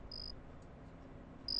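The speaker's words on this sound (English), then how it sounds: "When the fly is played cricket chirrups from a miniature speaker" Cricket chirps played through a miniature speaker, two bright, short trilling bursts separated by a pause over a low background hiss.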